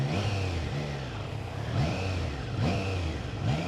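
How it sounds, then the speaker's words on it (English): A Triumph Trident 660 motorcycle with an inline triple engine runs close by, its engine rising and falling through repeated revs with a throaty mid-pitched tone and no voices. "Start up the inline triple."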